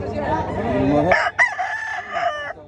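A rooster crows loudly and close by, one full drawn-out call with a rising, strained finish.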